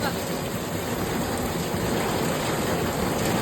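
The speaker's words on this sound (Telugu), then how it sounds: "ఇప్పుడు చూడండి ఎట్లా పడుతున్నదో వాన, ఇప్పుడు ఫాస్ట్ గా వచ్చేసినది" Heavy storm rain pours down in Santa Cruz, Mumbai in a dense, steady roar of hiss and splatter, continuous and loud throughout.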